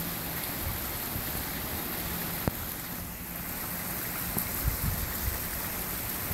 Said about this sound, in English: it's raining, but that is the waterfall